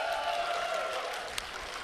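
A crowd applauds at a BlazBlue Central Fiction fighting game tournament top 8, a steady wash of clapping and cheering from a large audience with no one talking over it.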